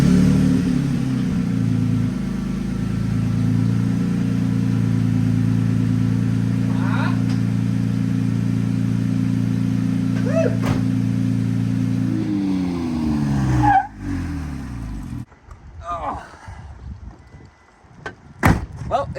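Third-generation Toyota Tacoma pickup engine idling after a throw-out bearing replacement, a steady low rumble held for a long stretch before it shifts and cuts out, followed by scattered clunks and knocks.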